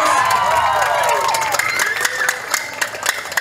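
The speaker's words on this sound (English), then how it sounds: "join me in giving a warm round of applause to the cast and crew of tonight's play" Audience at a stage performance of Twelfth Night cheering and applauding the cast and crew: loud crowd cheers and shouts, then clapping rising under the noise.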